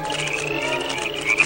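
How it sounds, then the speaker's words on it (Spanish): Frogs croaking in a dense, steady chorus, close and continuous, with a brief louder croak near the end, as frogs rain down. "Están lloviendo ranas."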